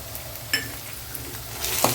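Ginger garlic paste sautéed with onions in a pan for mushroom gravy, a soft steady sizzle under a few light spatula scrapes and taps, close by.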